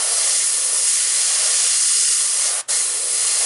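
An airbrush sprays with a loud, continuous hiss close by. The hiss breaks once very briefly and then carries on.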